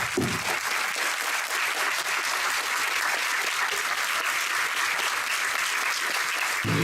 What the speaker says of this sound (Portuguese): Eu quero uma salva de palmas para Douglas